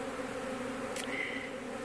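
Honeybees buzzing during a hive removal, a steady dense hum of many insects close by with a brief higher whine near the middle.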